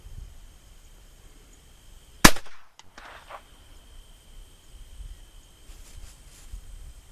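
A Ruger LCP II .22LR pocket pistol fired once toward ballistics gel, a single sharp, close crack with a brief tail, then quiet outdoor background with faint insect-like chirps.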